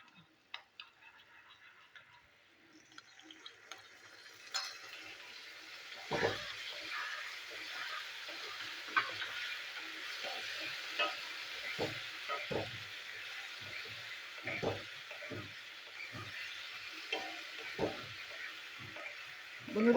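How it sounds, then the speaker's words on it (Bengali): Pieces of taro (mankochu) and potato fry in spiced oil with a soft, steady sizzle, punctuated by regular scraping and clicking from stirring, starting faint and growing slightly louder. "আমি এখন মশলার সাথে কচু আলু একটু ভেজে নেবো।"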